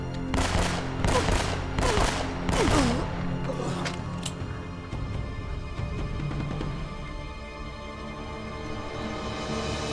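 Rapid gunfire in Uncharted: Drake's Fortune during a church shootout, a cluster of loud close shots at the start giving way to scattered cracks and a ringing, echoing tail over constant game ambience.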